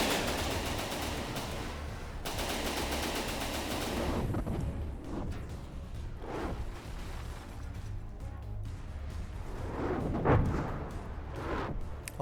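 A tank's machine guns in a combat video game rattle in a dense, continuous stream of rapid bursts, with heavier booming blasts mixed in toward the end. It is loud and close, with no speech.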